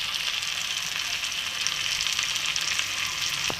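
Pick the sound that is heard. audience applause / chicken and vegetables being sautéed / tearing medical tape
chicken and vegetables being sautéed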